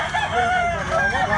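Big-size Golden Boy and Blue Legs gamecocks at a market, a steady, close crow wavering over a noisy crowd background.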